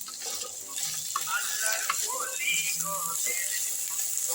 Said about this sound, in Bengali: নুন দিয়ে এবার আমি এটাকে ভাজা ভাজা করে নিচ্ছি